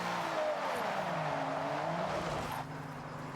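A car drifting in second gear in Forza Horizon 6, driven with a clutch kick on a sim wheel: the engine note rises and wavers while the tires squeal continuously, then the revs drop off near the end.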